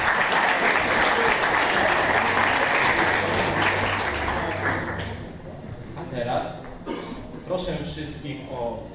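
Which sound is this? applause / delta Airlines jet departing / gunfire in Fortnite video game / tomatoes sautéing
applause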